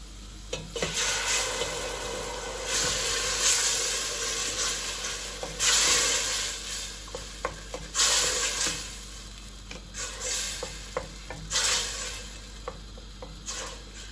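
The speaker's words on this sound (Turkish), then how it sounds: "Salça kavrulduktan sonra rendelediğim domatesleri içine katıyorum." Grated tomatoes sizzle in a pan of fried tomato paste and oil, a steady hiss broken by louder bursts as the sauce is stirred, with occasional clicks and scrapes from the utensil.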